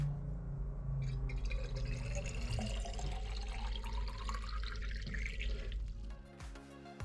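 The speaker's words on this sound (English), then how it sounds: "And just like that, we have running water again." A freshwater tap on a sailboat runs, filling a sink with a steady pouring stream and a rising pitch as the water level climbs, quiet and close, ending with a few drips.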